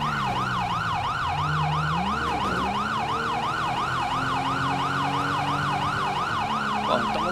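A wailing police siren in the game GTA V sweeps up and down steadily and loudly throughout, with low engine rumble and game-like background noise beneath it.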